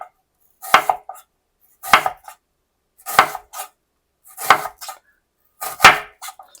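A knife slices an onion thinly on a cutting board in five separate bursts of quick, crisp cuts, each ending in a firm tap against the board, close and alone with silence between.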